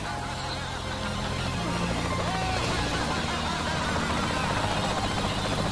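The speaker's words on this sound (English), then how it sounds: "Where's that guy in the helicopter going?" A helicopter flying in the game Saints Row: The Third, a steady churning rotor roar that swells and holds loud under honking game noise and other effects.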